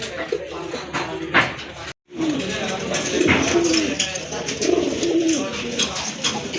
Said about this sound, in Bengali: ইন্ডিয়ান বোম্বাই কবুতর মাশাআল্লাহ হিউজ সাইজের